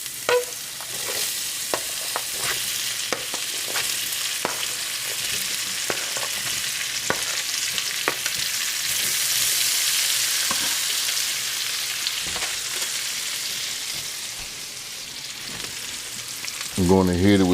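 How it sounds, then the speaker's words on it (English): Potatoes sizzle steadily in a skillet over low heat, a continuous bright frying hiss broken by scattered scraping and stirring clicks from a utensil against the pan, with no voices. "in this same pan, I'm going to turn down my heat to low. I'm going to toss in my potatoes."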